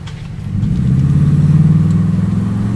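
A Toyota Tundra fitted with an upgraded TRD exhaust revs up from idle into a loud, deep, steady drone that holds for a couple of seconds with a throbbing low pulse, close by and without talk.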